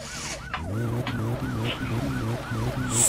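Police siren from the My Summer Car video game, wailing in steady repeated up-and-down sweeps, loud and close with an engine rumble beneath and no talking.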